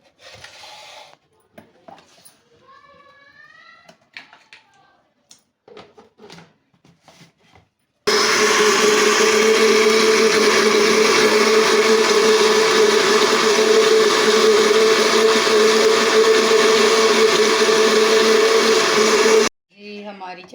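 A kitchen blender grinds green chili, coriander and yogurt into chutney, a loud continuous whir lasting about eleven seconds, bracketed by quiet handling noises and brief talk.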